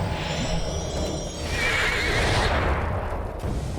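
Horses neigh in the video game Lord of the Rings Online, a loud sustained whinny rising over a dense backdrop of hoofbeats and battle noise.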